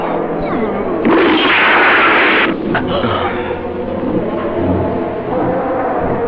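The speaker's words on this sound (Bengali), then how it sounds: "আমি তোকে আর একটা গুলি করব।" A gunshot in a Bangla action film fight scene, a loud blast burst and ringing echo over a soundtrack bed of music and voices.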